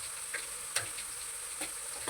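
Potatoes frying in oil give a steady, close sizzle and hiss, broken by a few sharp taps from stirring or turning.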